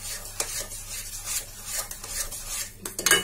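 Wheat atta halwa stirred in a pan with sugar added: steady scraping and clinking of a spoon against metal with a faint sizzle beneath, close and clear, with no voices.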